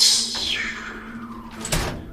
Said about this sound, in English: eventually, the doors start to open